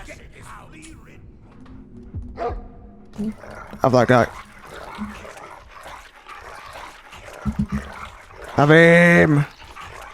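Dog barks and whimpers from a video game, with a short yelp near the two-second mark, a brief burst around four seconds and a louder harmonic whine near nine seconds, interleaved with players talking.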